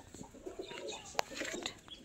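Pigeons coo softly in a continuous low murmur while one is let go, a single sharp snap standing out midway above busy background bird chatter, no one speaking.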